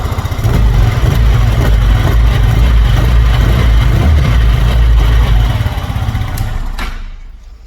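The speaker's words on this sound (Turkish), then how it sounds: "Biraz gaz verip bakalım." A Mondial Skuty 125 scooter engine runs loud and close, holding a steady rev with a throbbing low rumble before cutting off abruptly near the end.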